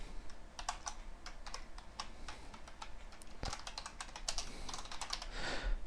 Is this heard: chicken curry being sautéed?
no